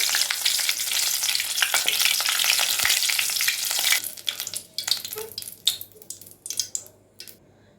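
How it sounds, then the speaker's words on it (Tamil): A bunch of curry leaves drops into hot oil for soya 65, giving a loud, dense, crackling sizzle that dies down after a few seconds into scattered pops and spits, close up with no voices. "இப்போ இதில் ஒரு கொத்து கருவேப்பிலை, ஸ்டவ்வை ஆஃப் பண்ணிவிட்டு பொரிச்சு எடுத்துக்கோங்க"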